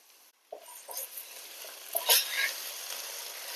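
Onions sautéing with tomato ketchup in a pan, a soft continuous sizzle with light scraping stirs and a few clinks, fairly quiet and close, no talking.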